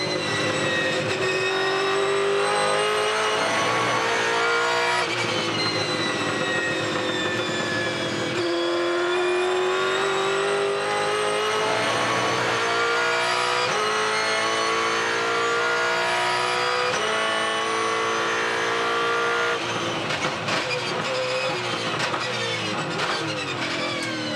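A Supercars race car engine heard onboard during practice at Ipswich, screaming loudly through repeated upshifts and downshifts into turn one, with steady high-revving roar filling the whole stretch and no talk over it.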